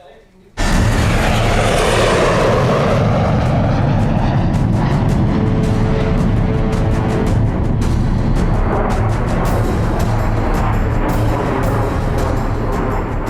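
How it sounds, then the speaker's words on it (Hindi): Chinese fighter jets fly over the South China Sea with a loud, sustained roar that bursts in suddenly and stays heavy and dense throughout, close and overwhelming. "चीन के फाइटर जेट्स साउथ चाइना सी में लगातार फर्राटे भर रहे हैं।"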